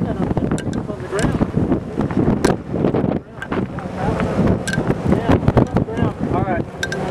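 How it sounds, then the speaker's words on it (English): Strong wind batters the microphone outdoors while chasing tornadoes in Kansas, a loud, continuous rumbling buffet that swells and dips throughout, with indistinct voices mixed in. "I hate this wind."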